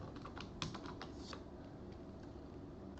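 A password being typed on a computer keyboard during a remote desktop login, a quick run of light key taps over a steady background hiss, close and quiet, with no talking.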